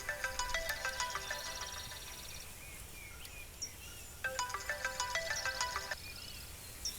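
A phone ringtone plays in a Telugu film scene: two separate bursts of a bright, repeating electronic melody, fairly quiet, with a short pause between them and no voices.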